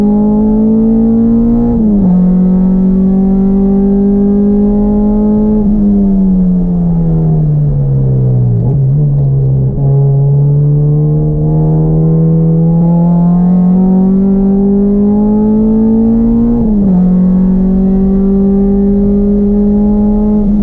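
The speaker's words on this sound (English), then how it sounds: "So I'm shaking down the car for the very first time pretty much on track" An engine-swapped Honda Civic with an H22 Euro R engine drives on a track, its engine heard from inside and droning steadily as it rises and falls through gears, with a few shift dips, loud and continuous.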